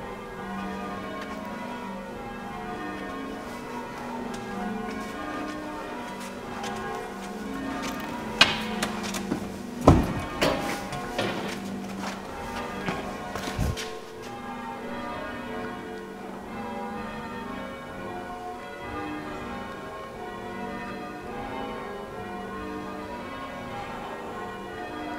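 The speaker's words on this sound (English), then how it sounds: "You can still hear the bells." Church bells ring steadily at a distance, their overlapping tones filling the air, with a brief cluster of sharper clanks midway.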